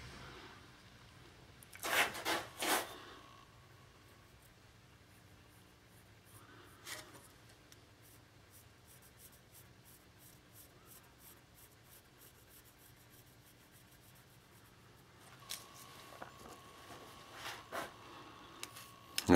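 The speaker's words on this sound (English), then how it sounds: "I can follow that line with my pencil and draw the pan right in there" Pencil point tracing a line onto a wooden flintlock gun stock while inletting the lock, heard as a few soft, close scratchy rubbing bursts separated by quiet pauses.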